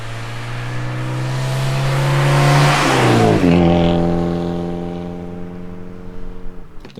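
A car approaches head-on along a road, its engine tone rising in pitch and loudness as it nears, peaking as it passes close by, then dropping and fading as it pulls away, recorded in mono.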